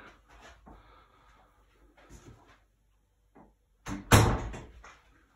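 An internal door between a house and its garage opens and closes, with soft handling rustles followed by a loud, close latch clunk and thud near the end, no talking.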